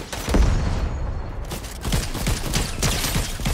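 Bursts of rapid gunfire from a shooter video game, with dense crackling volleys and low booms that overlap and continue through the stretch, loud and close, with no talk over them.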